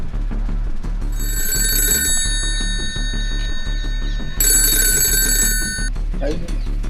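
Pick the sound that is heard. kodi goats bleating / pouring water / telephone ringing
telephone ringing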